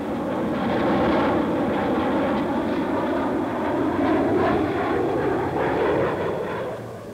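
An RAF jet aircraft rolling during a formation display, a sustained loud engine roar that swells and holds steady across the sky before easing off at the end, with no talk.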